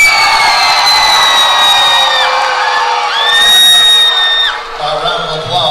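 A boxing crowd whoops and cheers loudly for Frank Carroll after a split-decision fight, a continuous wall of shouting voices with rising and falling yells, close and dominant.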